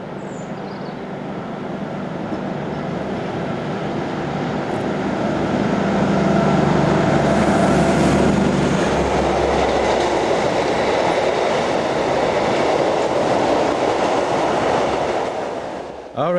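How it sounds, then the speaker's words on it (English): A trip freight train hauled by locomotive 294282 rolls through Bottrop Bois, its rumble swelling as it approaches, then a sustained clatter of wagons passing close before easing off near the end. "a trip freight worked by 294282, seen passing through Bottrop Bois"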